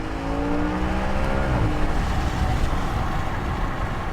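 Audi RS5 coupe with a naturally aspirated V8 engine shifting down, the engine note sliding through descending pitch sweeps before settling into a steady broad rumble, loud and close with no talk.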